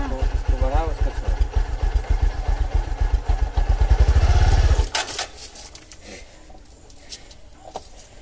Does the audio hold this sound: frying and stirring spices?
no